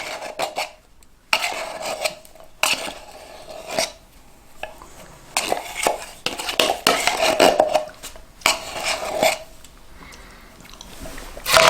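A spoon scrapes thick magic bar mixture from the bottom of a bowl in repeated close, rasping strokes with metallic clinks, separated by short pauses.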